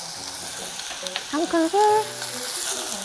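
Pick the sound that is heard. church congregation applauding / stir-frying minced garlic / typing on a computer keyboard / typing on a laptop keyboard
stir-frying minced garlic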